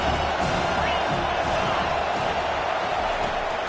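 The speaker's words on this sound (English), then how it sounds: "how nice is it to have the home crowd going absolutely bananas?" A home crowd at a football game roars continuously, a dense, steady wall of cheering and noise that neither rises nor falls.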